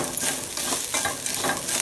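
Shredded coconut frying in coconut oil for a Kerala-style roasted chicken curry, a steady near sizzle with scraping stir strokes recurring throughout, no talking.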